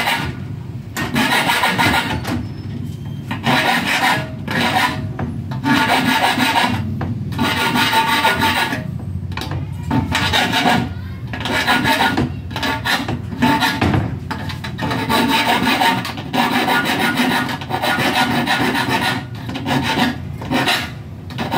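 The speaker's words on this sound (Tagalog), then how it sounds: "Saka natin kikilan." Hand filing metal on a screen part for a 900 series three-track window, steady rasping strokes repeated in an even back-and-forth rhythm, close and loud with short gaps between strokes, no voices.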